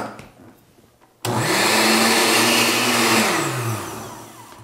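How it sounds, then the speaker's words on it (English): A stick blender whirs loudly while blending green chutney for papadums, starting abruptly after a quiet moment and holding a steady motor drone with a slight pitch drop near the end. "don't drop the stick when the blender is running."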